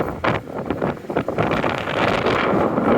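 Strong gusting wind on an elevated city street buffets the microphone, roaring loudly in uneven bursts that swell into a constant blustery rush.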